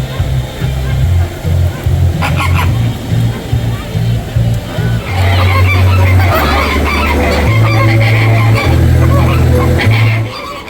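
A noisy flock of flamingos honks and calls continuously, overlapping and loud, with crowd chatter mixed in, at SeaWorld Orlando.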